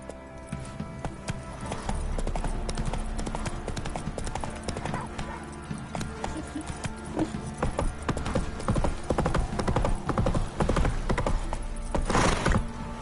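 Galloping hooves of a horse in The Witcher 3, a fast continuous clip-clop drumming with game music and ambience layered in, steady and close throughout.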